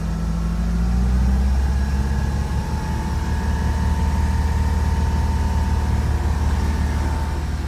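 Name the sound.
Mercruiser 4.3 EFI boat engine revving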